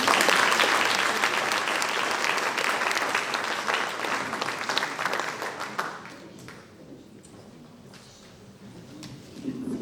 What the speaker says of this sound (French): C'est Michel Lagarde, vous pouvez l'applaudir le temps qu'il arrive.